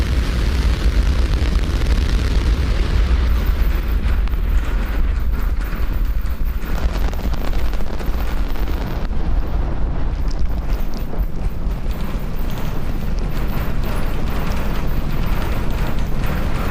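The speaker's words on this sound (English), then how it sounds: "Lift off Starship." SpaceX Starship rocket lifting off, a continuous heavy roar with deep rumbling crackle and wind buffeting the microphone, loud and sustained throughout without letup.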